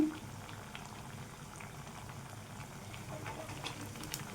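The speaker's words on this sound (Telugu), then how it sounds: "వేసేసుకొని మంచిగా వేయించుకోవాలండి. రెండు వైపులు కూడా మంచి కలర్లో వేయించుకోవాలి." Malpuri deep-frying in hot oil in a pan give a steady, dense bubbling crackle that runs evenly throughout at moderate volume, with no talking.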